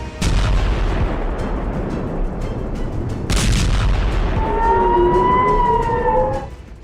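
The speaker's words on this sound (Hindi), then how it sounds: "इजराइल में पूरी रात सायरन बजे।" Air raid sirens wailing over Israel during a night of rocket and ballistic missile fire, a rising and falling siren tone cutting through loud booms and blasts, heavy explosions dominating before the siren swells in the later seconds.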